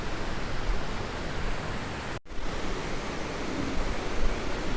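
Rushing water at Sarugudu waterfall in a hilly forest area pours as a steady, dense broadband roar, close and loud, briefly cut by a short break partway through.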